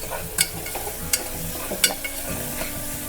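Ingredients for egg pulao fry in a pan under a soft steady sizzle, while a utensil scrapes and clinks against the pan about four times in uneven strokes.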